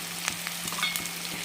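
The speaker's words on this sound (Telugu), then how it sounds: "తర్వాత ఈ తాలింపులో కరివేపాకు వేస్తున్నా." Curry leaves drop into hot oil tempering already crisp with dals and seeds, giving a quiet sizzle with scattered sharp crackles and pops over a low steady hum.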